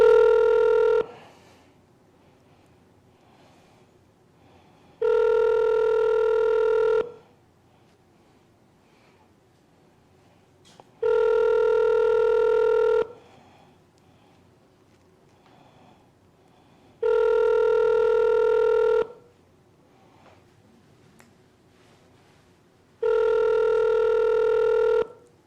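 A telephone produces five separate bursts of dialing tones, each about two seconds long, spaced roughly six seconds apart. The tones are loud and steady, with near silence between the bursts.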